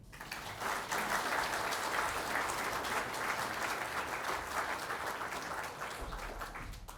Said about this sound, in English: Another round of applause, if you will